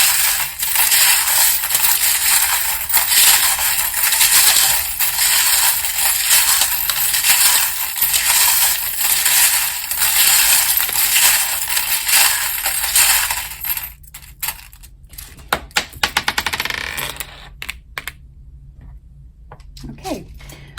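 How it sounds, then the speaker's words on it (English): A rose quartz charm ball rolls among metal tarot charms, making a loud, steady rattling jangle that thins into scattered clicks and taps as it settles. "that was the sound of the rose quartz ball, just trying to escape"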